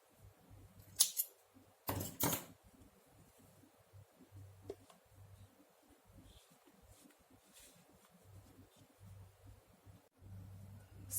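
Scissors cut crochet yarn with a few sharp, crisp snips close by, one early and a quick double snip soon after, followed by faint handling rustles in a quiet room.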